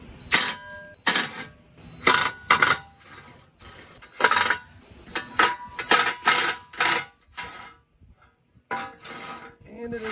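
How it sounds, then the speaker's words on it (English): Socket wrench with a 13mm socket removing the front steel skid plate from a Jeep Gladiator Mojave: sharp, close ratcheting clicks and metallic clatter in irregular bursts, with a few quiet gaps. "now I'm going to take off this front skid plate with a 13mm socket."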